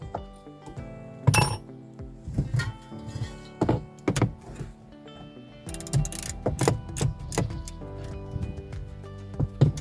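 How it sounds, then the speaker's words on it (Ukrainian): Ratchet wrench loosening four 10 mm bolts while removing a steering wheel and column switch: repeated bursts of rapid clicking, close and fairly loud, with metallic clinks between strokes and no talking. "Тепер ось тут 4 болта на 10. Ми їх відкручуємо."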